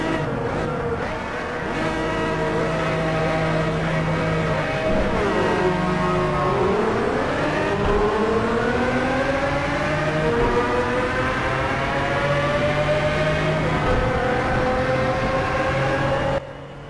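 A 98T Turbo race car lapping the Hockenheim circuit in Project Cars, its loud, continuous engine whine rising and falling through gear changes, sustained and close throughout.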